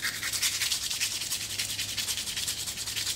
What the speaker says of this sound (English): You might want to take a piece of 80 grit and just scuff down the top of them.